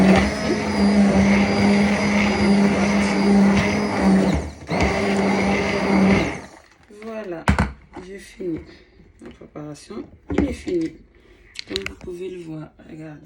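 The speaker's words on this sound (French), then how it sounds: "Mixer la compote." A blender whirs loudly for about six seconds, briefly dipping once, as it purées apple and pear compote. A person then speaks over sparse kitchen clatter.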